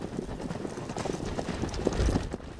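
Horses gallop fast across the Arizona desert, their hooves drumming in a quick, continuous clip-clop rhythm that swells and fades as they pass close by.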